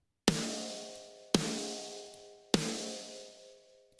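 Three hits of a layered snare drum run through effects, each a sharp crack with a long ringing, tonal decay, evenly spaced and heard alone.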